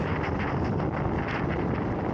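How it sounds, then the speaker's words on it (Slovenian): Steady wind buffets the microphone on the north face of Planjava mountain in Slovenia, with rain, in a broad, continuous rumble and roar, loud and close, with no voices. "Veter, dež, gor više sneg."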